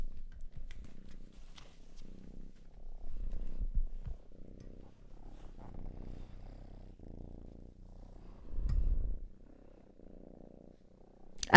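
A cat purrs close up, a soft, low, steady rumble in rhythmic pulses that continues quietly throughout, with no talking.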